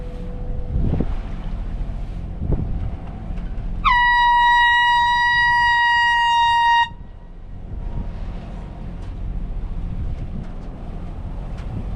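A ship's horn sounds one long, loud, steady blast of about three seconds across open water in fog, with wind rumble on the microphone before and after.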